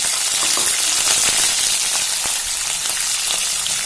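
Peanuts and green chillies fry in hot oil in a pan, a dense, steady, close sizzle and crackle with a few faint stirring clicks and no talk.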